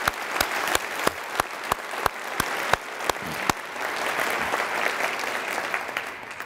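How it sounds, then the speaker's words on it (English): A university audience gives a round of applause, steady crowd clapping with a few sharp, distinct claps standing out near the front, continuing at moderate level throughout. "a round of applause"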